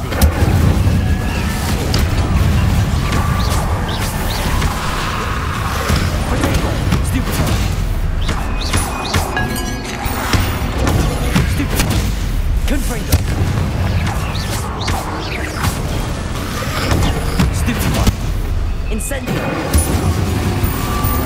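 Spell explosions and fiery bursts in Hogwarts Legacy combat, repeated booming blasts and crackling impacts layered into a loud, continuous clamor of battle with no quiet gaps.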